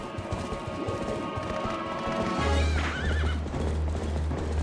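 A horse in the Zelda: Twilight Princess video game clip-clops along, then lets out a loud, wavering neigh over a steady low in-game hum, with no one talking.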